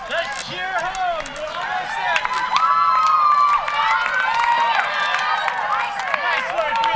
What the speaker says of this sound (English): Let's cheer home!